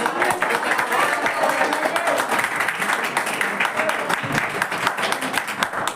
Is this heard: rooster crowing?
no